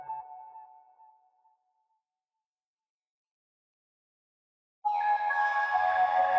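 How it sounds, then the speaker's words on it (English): Logic Pro Alchemy synth preset Asian Dreams: a soft tonal note fading out, a couple of seconds of silence, then a brighter layered synth chord entering abruptly and sustaining at moderate level. "using additional layer to add transient to the main melody. Preset called Asian Dreams."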